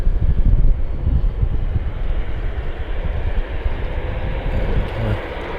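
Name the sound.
Air Portugal Airbus A320neo jet taking off to Lisbon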